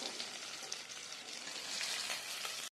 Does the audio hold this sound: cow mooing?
no